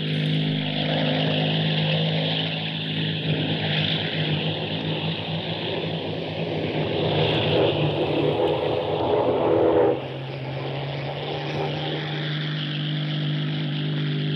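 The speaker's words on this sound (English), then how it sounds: "the aircraft will make a turn just before this now and head back towards Bolt Head" A propeller-driven aircraft flies over the clifftop at Salcombe, South Devon, its engine a loud, steady drone that holds throughout and eases slightly toward the end.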